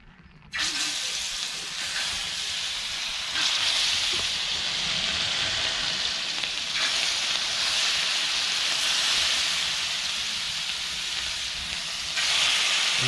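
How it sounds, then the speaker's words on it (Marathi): Steady, loud hiss of fish frying in hot oil on a griddle, a continuous sizzle that holds evenly throughout with no talking. "आता तवा आपला गरम झाला तेलसुद्धा टाकून घेतला आता आपण मुशी टाकणार"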